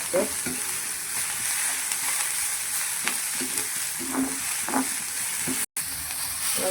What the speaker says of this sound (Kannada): ನಾವು ಕಾಯಿ ತುರಿಯನ್ನು ಸೇರಿಸ್ಕೊಳ್ತಿದ್ದೇವೆ ಸ್ವಲ್ಪ ಫ್ರೈ ಆಗಲಿಕ್ಕೆ